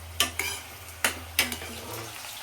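Onions and green chillies fry in oil in a pan while being stirred, giving a soft steady sizzle broken by several sharp scraping and clinking strokes of the spoon against the pan.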